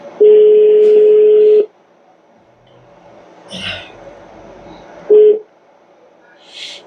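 A telephone call is placed, with a long steady tone, a pause, a short second tone and faint room noises between them, loud and close.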